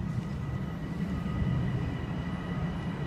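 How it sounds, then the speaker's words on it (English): A Metro-North commuter train arrives at Yonkers station, its steady low rumble and rail noise filling the platform at close range, continuous and fairly loud with no talking. "There's our train."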